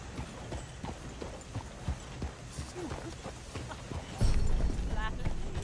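Horse hooves clip-clop steadily as a horse-drawn coach rolls along in Red Dead Redemption 2, a rhythmic pattern of close thuds with people talking over it and a louder rumble near the end.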